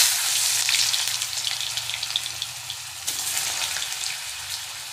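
Cut potatoes hit hot oil in a pan for bhindi besara, a loud dense crackling sizzle that flares at first, eases slightly, then surges again midway.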